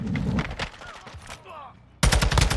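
Rapid automatic bursts from a TAC 56 rifle in Call of Duty: Modern Warfare II, with a busy stretch of fire, a brief quieter gap with game effects, then a loud dense volley to close.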